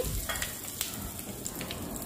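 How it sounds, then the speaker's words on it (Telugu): Spice tempering with dried red chillies frying in oil for a tomato and red chilli chutney, a close, steady crackling sizzle with a few sharper pops throughout. "చూసారు కదా పోపు బాగా వేగిపోయింది దీనిలో"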